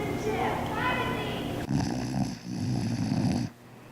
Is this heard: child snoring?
yes